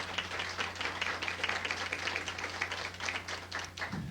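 An afternoon audience at a Saint-Hilarion show applauds warmly, a dense close patter of many hands clapping steadily for about four seconds before fading at the end.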